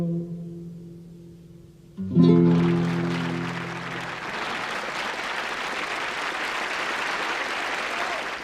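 Audience applause erupts after a folk song, a sustained burst of clapping that swells suddenly as the final sung notes fade, then continues steadily and loudly to the end.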